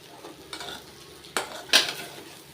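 Tamarind upma is stirred in a pan over low heat, with a soft frying hiss and three distinct scraping strokes of a spoon against the pan.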